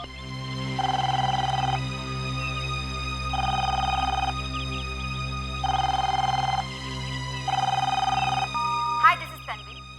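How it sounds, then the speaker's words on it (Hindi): Ringback tone on an outgoing phone call: four evenly spaced ring bursts, each about a second long, loud and clear over a steady low background drone, ending with a click as the line connects. "एक मिनट, मैं मैम को फोन मिलाता हूँ, शायद वो आराम कर रही हूँ।"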